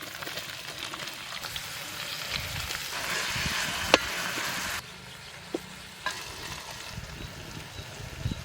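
Onions sizzling in hot oil with ginger and garlic for a Tamil venison curry, a steady close frying hiss with occasional pops and stirring clinks against the pan.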